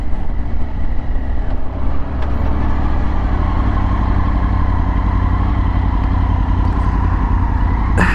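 A motorcycle engine drones steadily and loudly throughout a ride in hot weather, close up and continuous, with a rough low rumble and wind roar and no one speaking.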